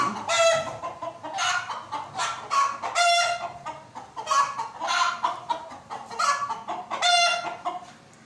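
Black Ayam Cemani chickens on a farm in Pakistan cluck and call repeatedly, with a rooster's crowing mixed in, loud and close throughout.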